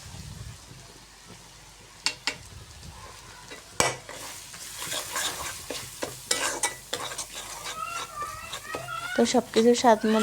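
Ground coriander, turmeric and chili masala frying in a pan for a koi fish curry, with repeated scraping stirs over a soft sizzle. A voice talks throughout, and bird-like chirps rise toward the end.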